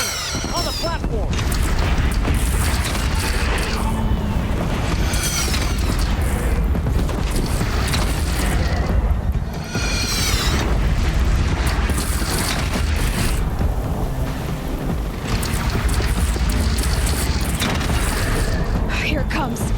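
Cannon fire and explosions in the video game Horizon Zero Dawn boom repeatedly under a constant din of battle, loud and dense throughout, with voices shouting over the noise.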